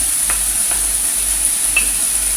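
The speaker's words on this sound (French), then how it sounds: "Maintenant, j'ajoute les oignons." Onions go into meat frying in a pan, producing a loud, continuous close-up sizzle with a high steady whine over it and a few faint taps of stirring.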